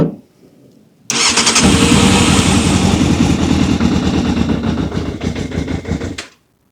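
A Yamaha YZF600R motorcycle, stood upright for better fuel delivery, cranks briefly and then fires into a loud, rough, steady running engine for about five seconds before cutting off abruptly.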